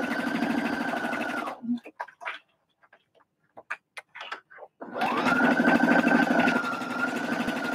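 Sewing machine stitching fabric for a cinch bag runs in two steady bursts, a fast even whirring stitch at the start and again near the end, with a quiet gap of soft clicks and handling in between.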